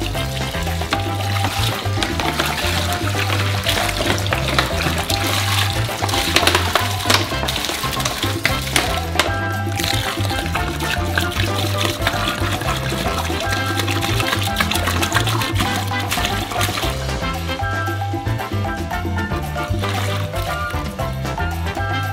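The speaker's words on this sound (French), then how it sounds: "on verse d'abord la moitié de l'eau." Water pours steadily into a large bowl of dry crab bait powder, about 70 litres mixed in halves, a loud continuous splashing rush with low churning underneath that runs throughout without a break.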